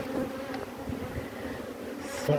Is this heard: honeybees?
yes